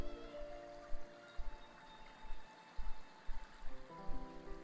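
A clear, limpid river flows and babbles nearby, steady rippling water with small splashes and gurgles rising and falling throughout.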